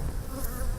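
Honey bees buzz inside a wooden hive box, a close, dense, steady hum of many wings carrying on without a break for under a second.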